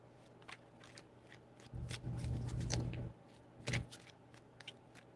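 A deck of tarot cards is shuffled close by in short riffling bursts, one longer riffle in the middle and a quick snap near the end, quiet against a faint hum.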